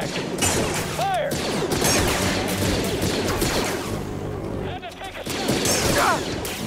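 Enemy blaster fire rattles in rapid volleys during a firefight in the Star Wars Jedi: Fallen Order video game, steady bursts of shots with whistling bolts over busy battle noise, brief dips before the shooting resumes.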